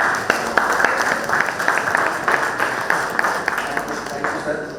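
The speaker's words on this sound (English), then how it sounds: "Big round of applause" A hall audience at a valedictory function of an agricultural workshop gives a round of applause, steady dense clapping filling the whole stretch with a few sharper nearby claps.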